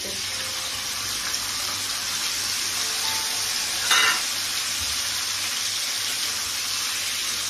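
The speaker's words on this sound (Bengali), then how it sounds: "তাহলে আমি এখন ম্যারিনেট করা গোলমরিচ আর একটু নুন আর কর্নফ্লাওয়ার দিয়ে আমি এটাকে এখন ফ্রাই করে নেব।" Marinated paneer coated in pepper, salt and cornflour fries in a pan with a steady, loud, close sizzle throughout, and one brief sharper hiss midway.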